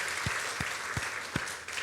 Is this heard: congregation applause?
yes